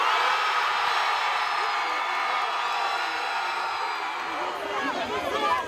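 A crowd at a Red Bull Campus Clash DJ competition cheers and whoops loudly and continuously, a sustained roar of many voices with excited shouts rising near the end.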